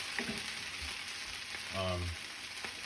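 Potatoes and onions sizzle and crackle steadily in a hot pan, a continuous close frying hiss with a brief scrape or flip partway through and no talking.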